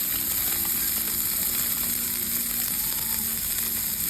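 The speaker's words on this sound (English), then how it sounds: "We're to just sear it on this side. And then flip it and sear it on the other side." Wagyu steak searing in a cast iron pan gives a loud, continuous sizzle and crackle of frying fat that holds steady throughout with no talking.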